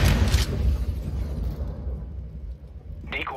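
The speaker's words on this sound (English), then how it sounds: "I'm throwing a grenade" A grenade explodes in CS:GO with a loud, booming blast up front that rolls into a rumbling decay, followed by a faint rising whoosh near the end.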